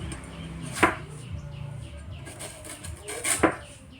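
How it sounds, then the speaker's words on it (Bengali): Washed mangoes being cut for pickle, a few sharp knife chops on a board standing out against a low background hum. "আমগুলোকে ভালো করে ধুয়ে এখন কেটে নিচ্ছি"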